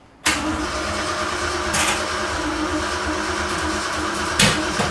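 A truck engine turns over on gasoline poured into the carburetor, bursting into a loud, rough, steady roar close by, with a sharp bang near the end.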